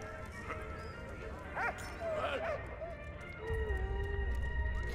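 A dog barks and whimpers in the game Valiant Hearts, a few short, fairly faint yips over a steady musical and ambient background, with a low rumbling layer that comes in toward the end.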